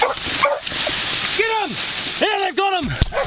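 Dogs yip and bark excitedly while cornering a possum during a night hunt in Christchurch, New Zealand, with sharp close barks and whimpers coming in bursts under loud, excited shouting from the hunters.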